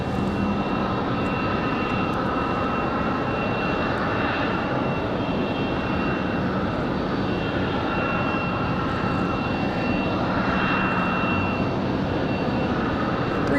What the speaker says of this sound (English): So this should be AeroMexico right here.